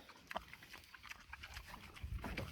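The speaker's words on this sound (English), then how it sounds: "this pig here loves scratches" A farm pig grunts and snuffles close by, making short irregular snorts against a quiet outdoor background while it leans in to be scratched.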